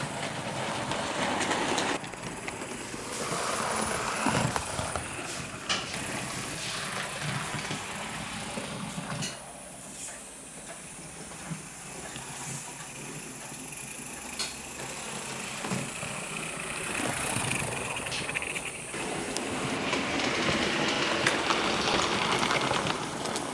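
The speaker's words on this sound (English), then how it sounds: "the old W class hasn't had a run for a while, so I got that on the track and steamed that up" A W class model steam locomotive runs on its track, giving a steady rolling rumble with faint clicking rail joints and hissing that swell and fade as it passes near and away.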